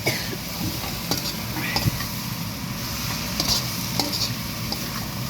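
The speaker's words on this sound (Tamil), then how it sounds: "போட்டு நல்லா அதை நல்லா தாளிக்க வேணும்" Kashmiri chillies are tempered in hot oil for a Sri Lankan sandwich filling, with a steady close sizzle and repeated scraping and stirring in the pan.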